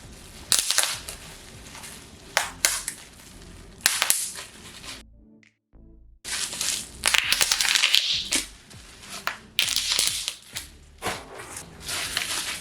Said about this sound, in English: This bubble wrap isn't as satisfying as other bubble wraps that I've played with.